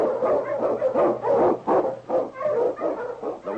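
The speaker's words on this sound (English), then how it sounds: "The Wonder Dog King, swiftest and strongest of Eskimo lead dogs, blazes the trail through storm and snow for Sergeant Preston" King, an Eskimo lead dog in an old-time radio drama, barks repeatedly and close up, giving a string of loud, rhythmic woofs with brief gaps between them.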